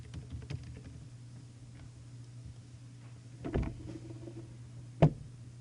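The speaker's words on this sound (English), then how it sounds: "For the name, type in on your keyboard Ubuntu Server." Sparse key taps on a computer keyboard, a few soft clicks and one sharper press over a steady low electrical hum, quiet and close.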